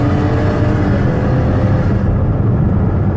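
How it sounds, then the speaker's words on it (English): A 2018 Dodge Caravan SE Plus wheelchair mobility van engine runs steadily under hard driving, a dense continuous drone with road noise and no pause, close and loud throughout. "My goal here is for you to hear the engine run, hear it shift to high speeds."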